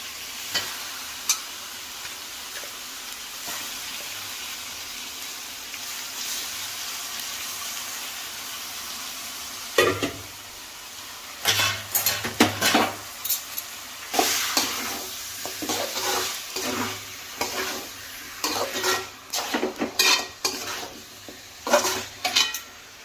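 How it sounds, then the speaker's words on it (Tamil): Chicken for a homemade biryani sizzles in a pan while a metal spoon scrapes and stirs it, first as a steady quiet fry and then with clanks and clatters against the pan. It sounds close up, and no one speaks. "இப்போ சிக்கனை போட்டுக்கலாம்."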